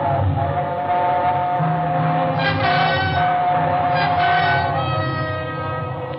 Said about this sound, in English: It was only the train going through the tunnel